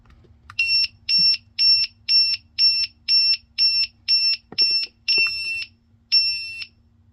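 A carbon monoxide detector in a Tiffin motorhome sounds its test: about ten sharp, high-pitched electronic beeps in a steady pattern, followed by a couple of longer tones, with a faint click midway.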